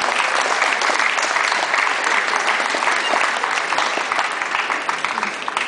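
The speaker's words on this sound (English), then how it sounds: "So if we give a round of applause to Anthony Kirkwood" An audience claps for a store manager at a shop opening event, a continuous and fairly loud round of applause that holds evenly throughout before easing slightly at the end.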